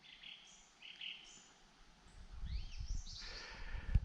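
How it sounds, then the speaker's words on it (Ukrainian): Several birds chirp and whistle in short phrases in a forest, fairly faint, over a low rustling background. "Ой, як пташки гарно співають."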